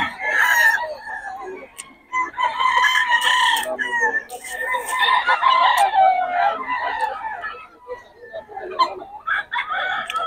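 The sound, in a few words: roosters crowing and clucking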